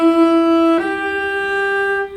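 Slow articulated shift from B up to G on a bowed string instrument: one sustained, clear note slides cleanly into a second held note partway through, played solo and close.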